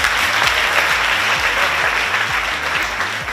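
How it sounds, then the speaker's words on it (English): A pageant audience applauds a charity fundraising group, sustained dense clapping heard over a pulsing low musical beat. "can we give them a round of applause?"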